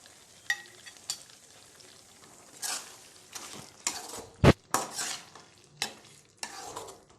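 A spoon scrapes and stirs through sizzling chicken liver fry in a pan, with repeated clinking strokes at an uneven rhythm over a soft frying hiss.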